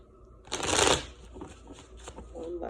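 Tarot cards are shuffled up close in one loud riffling burst followed by softer shuffling rustles, with a voice speaking faintly in the background.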